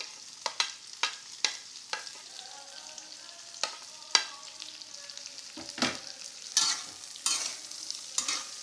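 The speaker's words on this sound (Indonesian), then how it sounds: "Habis itu diaduk ya, jangan lupa diaduk biar matangnya nanti rata." Bird's-eye and green chili peppers frying in a pan while being stirred: a continuous sizzle overlaid with repeated sharp scraping clicks of a spatula, irregular and close, growing busier toward the end.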